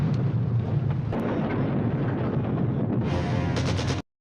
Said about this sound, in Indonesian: dan ketika bom itu meledak